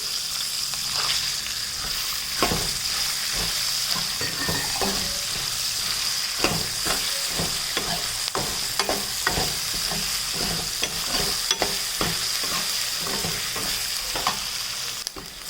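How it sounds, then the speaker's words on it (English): Red chilies fry in a pan with groundnuts, a steady sizzle broken by frequent scraping stirs, close and continuous. "Fry it for some time. Then we will add red chilies."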